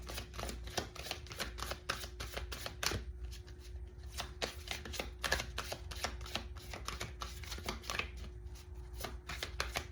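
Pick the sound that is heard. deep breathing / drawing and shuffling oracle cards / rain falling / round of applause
drawing and shuffling oracle cards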